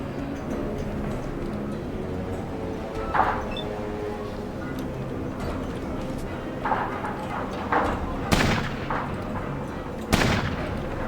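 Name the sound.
gunfire in the video game Fallout Tactics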